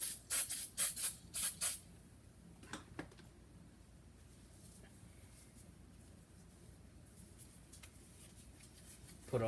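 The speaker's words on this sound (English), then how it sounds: "spray down your work area." Several short, sharp hissing sprays from a spray bottle in quick succession onto a kitchen work area, followed by a quiet stretch with faint rustling.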